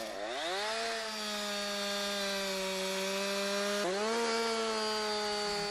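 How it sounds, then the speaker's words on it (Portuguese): Chainsaw cutting through wood, a loud continuous engine drone holding a steady pitch, dipping and revving back up midway as the chain bites, with no voices. "Pode serrar tanto com a parte superior da lâmina como a inferior."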